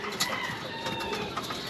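Racing pigeons in a loft being rested between training tosses, heard as soft overlapping cooing and chirps with light wing and perch noises close by, steady throughout and with no talking.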